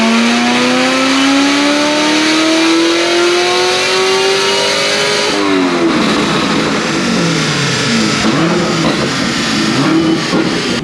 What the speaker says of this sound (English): We're gonna get the Corvette strapped down here, do some pulls